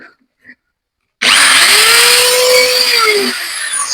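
A power drill with a 2 mm bit bores a hole into wood, starting abruptly after a brief silence with a loud, close whir whose pitch rises and then dips as it works through, running on to the end.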